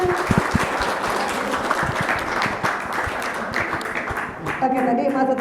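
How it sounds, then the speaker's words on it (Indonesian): An audience claps for a mosque youth group leader at an Indonesian Ramadan gathering, dense steady applause running throughout with a voice speaking briefly near the end. "Boleh kan tepuk tangannya buat Mas Sutadi"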